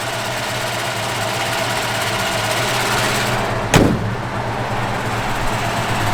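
A 1965 Ford Mustang convertible with a 302 V8 runs close by in a loud, steady idle, with a single sharp click or thump partway through.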